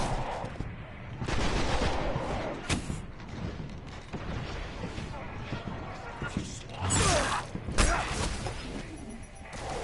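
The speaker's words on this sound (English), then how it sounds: "Why are you shooting at me?" Gunfire erupts during Destiny gameplay as a Hunter character comes under attack, with bursts of shots and sharp impacts over a busy game soundscape, alongside intermittent talking.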